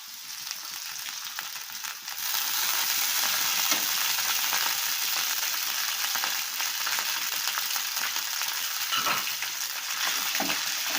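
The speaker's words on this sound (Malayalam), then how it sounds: "ഇഞ്ചിയും വെളുത്തുള്ളിയും നന്നായിട്ട് മൂത്ത് വരണം." Chopped ginger and garlic frying in hot oil for lemon pickle, a steady close sizzle that swells louder after a moment and continues with occasional stirring scrapes.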